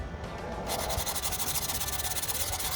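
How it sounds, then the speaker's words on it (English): Steady scratchy rubbing of sandpaper by hand on a stabilized wood skinning-knife handle, a continuous close rasp with a fast back-and-forth rhythm and no voices. "we're gonna do our last hand sanding"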